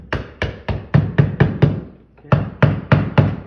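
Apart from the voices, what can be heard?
hammer tapping electrical box flat in drywall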